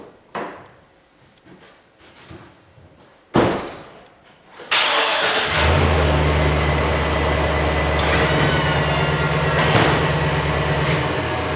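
A pickup truck fitted with a Western MVP3 snowplow: a few faint handling clicks and a door thud, then the engine cranks and catches, settling into a loud, steady, close-up idle with no talking.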